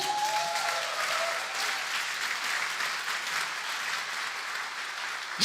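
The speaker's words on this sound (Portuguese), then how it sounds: "Pode aplaudir." An audience applauds at a church sermon, a steady wash of clapping hands that holds evenly for several seconds without voices on top.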